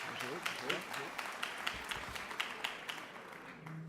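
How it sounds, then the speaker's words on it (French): Audience applause at a school federation congress, a quiet, fairly distant patter of clapping with individual claps standing out in an uneven rhythm, fading toward the end. "on peut applaudir tout de suite"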